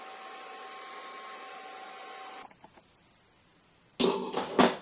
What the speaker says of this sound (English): And you get your blow dryer on cool here,